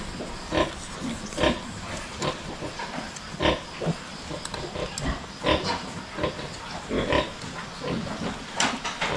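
Tailless piglets of a high-breed litter on a provincial farm grunt and squeal in repeated short bursts, close and fairly loud, with rustling between calls.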